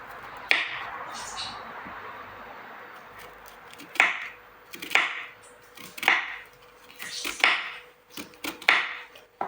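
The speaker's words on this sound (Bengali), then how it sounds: "মা বলেছে বাজির জন্য তিতা করলা কাটতে হবে, তিতা করলাটা কেটে নেয় একবারে" A knife chops bitter gourd on a board in about seven crisp, evenly spaced strokes, each a sharp close tap with a brief scraping tail, and no voices.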